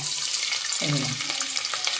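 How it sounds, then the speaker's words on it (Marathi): Chopped onion goes into hot oil in a pressure cooker, and a soft sizzle starts up partway through, settling into quiet, steady frying with no talk. "गरम आहे आता याच्यात आपण कांदा घालूया फोडणीला"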